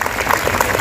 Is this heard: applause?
yes